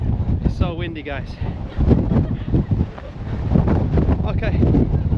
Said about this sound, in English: It's so windy, guys.